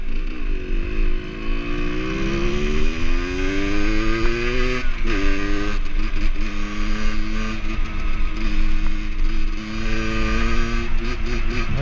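A small dirt bike is ridden nearby for youth motocross practice, its high-pitched two-stroke-like engine revving up and down in rising and falling sweeps, loud and continuous.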